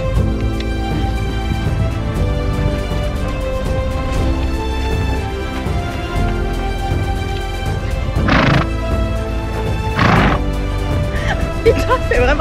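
A horse on a cattle drive in Australia neighs and whinnies loudly twice over a steady background of hoofbeats and movement, with a rider speaking nearby.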